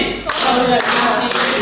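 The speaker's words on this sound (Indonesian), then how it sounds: "Tepuk 1, tepuk 2, tepuk 3, tepuk 4, tepuk 5" A classroom group claps together in bursts, close and loud, with several sharp rounds of hand claps following one another over a brief span.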